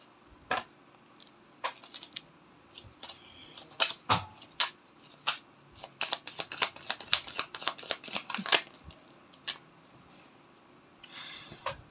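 Tarot cards shuffled by hand, a series of crisp close riffling and slapping bursts, sparse at first then dense and rapid, with quiet gaps between.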